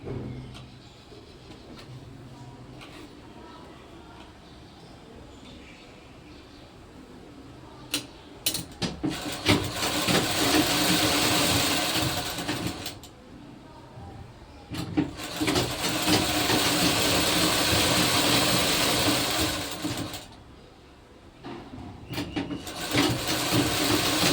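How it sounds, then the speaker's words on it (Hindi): A sewing machine stitches the second sleeve of a kurti with a double seam, running in two long loud whirring bursts separated by pauses with lighter clicks and handling. "अब हम दूसरा बाँह सी रहे हैं।"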